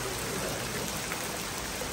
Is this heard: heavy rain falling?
yes